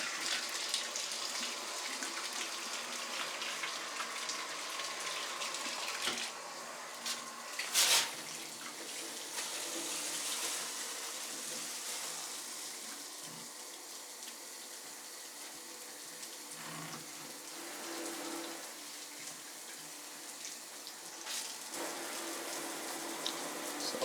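Two shower heads running water during a home inspection, a steady broadband hiss of spray that continues throughout with small shifts in level, no talking.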